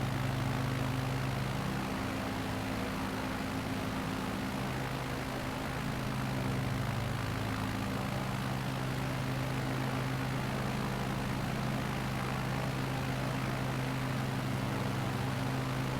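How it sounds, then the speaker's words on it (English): A small propeller plane drones steadily in flight, its engine puttering with a low, even hum and broadband rush that stays constant and close throughout, with no voices. "Puttering along peacefully in my little plane"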